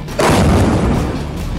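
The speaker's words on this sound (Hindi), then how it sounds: "जिसमें इन परमाणु ठिकानों पर विस्फोट की आवाज साफ सुनाई दी" A bunker buster bomb strike on the Natanz nuclear site produces a heavy, loud boom that hits suddenly and then rolls on as a broad, sustained rumble.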